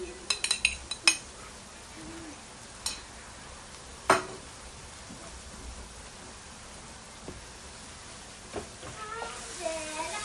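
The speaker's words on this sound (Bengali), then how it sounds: "এবার ভালো করে নাড়াচাড়া করে মিশিয়ে নিব।" Ground coriander, cumin, turmeric, Kashmiri chilli and panch phoron are stirred into a Bangladeshi fish bhuna curry in a pan, with a cluster of quick metallic scrapes and taps over a steady soft sizzle, and a few more clinks later.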